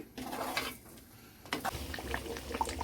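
Tomato pickle bubbles and pops in a pan, soft gurgles with occasional clinks of a utensil, close by and quiet.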